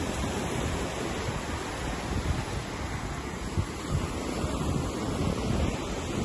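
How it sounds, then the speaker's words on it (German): Wind gusts and surf wash onto a resort beach, a continuous broadband rush with rolling swells of loudness and buffeting wind noise on the microphone. No voices are heard. "Heute Morgen geht ein bisschen Wind"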